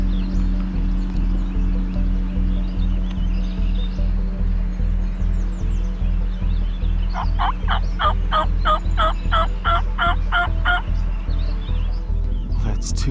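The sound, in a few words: wild turkey gobblers and hens in a field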